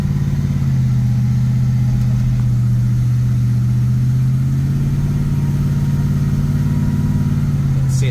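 A 1970 Chevrolet C10 pickup with a stroked, supercharged LS V8 drones loudly and steadily on a test drive with the windows down, its deep exhaust note rising slightly partway through and holding near and constant.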